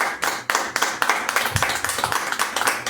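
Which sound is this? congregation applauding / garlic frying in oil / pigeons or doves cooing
congregation applauding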